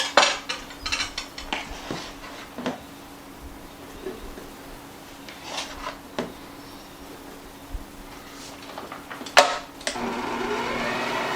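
Greek butter cookie dough is stirred in a bowl with scattered clinks and scrapes of utensil against the dish, then a mixer whirs up near the end.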